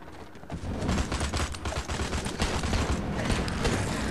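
A Magnum fires rapidly in the Suicide Squad Android mobile game. Dense, continuous game gunfire and effects sound loud and close, with no break.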